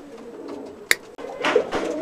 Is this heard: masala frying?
no